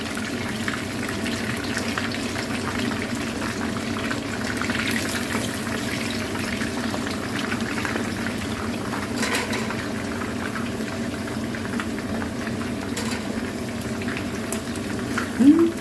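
Isan sausage frying in hot oil, a steady dense sizzle and bubbling held at an even level throughout, close and continuous with no talk, ending in a brief louder spatter.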